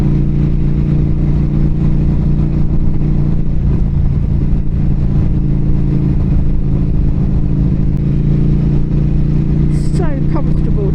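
2023 Norton Commando 961 SP motorcycle engine rumbling steadily while riding, a loud constant low drone with wind noise, running throughout.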